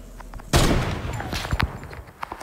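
A flintlock fires in a video game with one sharp, loud report, followed by scattered shots, thuds and footstep-like clatter in a 3 vs 3 match.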